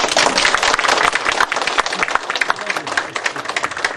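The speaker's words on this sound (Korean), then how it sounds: "박수 한번 주세요" An audience bursts into loud, sustained applause, many hands clapping densely at once, with a few voices mixed into the crowd noise.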